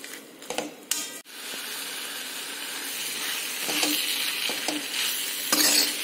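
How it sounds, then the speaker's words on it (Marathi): Spiced sprouts curry for Kolhapuri misal being stirred in a pan, a steady sizzle under repeated scraping strokes and a few sharp clanks of utensil against metal, close and alone. "ही व्यवस्थित हलवून घ्यायची मसाले टाकल्यानंतर."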